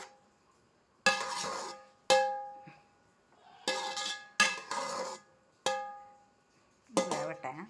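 A metal spoon stirs ghee rice in a pot, giving half a dozen separate ringing clinks and scrapes against the pot with quiet pauses between them, close and fairly loud.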